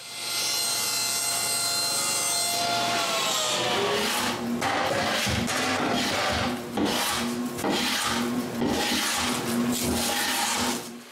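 A saw rips a wooden board for a door frame, the motor's steady hum giving way to repeated rasping, grinding bursts as the blade works through, loud and near.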